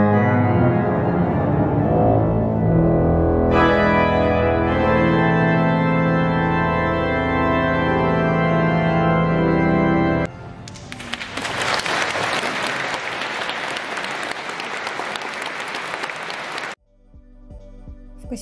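Music performed inside Kaliningrad Cathedral, sustained rich organ-like tones ringing in a large reverberant space, then breaking into sustained loud applause from the audience that cuts off near the end.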